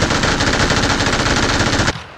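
Automatic gunfire from PUBG: Battlegrounds rattles in one loud, dense, rapid burst lasting about two seconds, then cuts off abruptly, with no voices over it.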